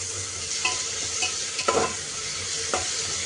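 Onion and tomato frying in a pan while being stirred, a steady sizzle throughout with a few louder scrapes and stirs of the spoon, close and alone without talk.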